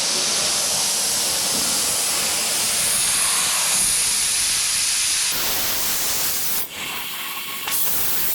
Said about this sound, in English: I'm going to run a piece off with my plasma cutter, and that's how I'm going to cut out the long strips